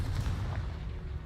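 A Confringo fire spell blast from Hogwarts Legacy, a dense low-end boom that rumbles loudly and steadily for about a second before easing off, with no talk over it.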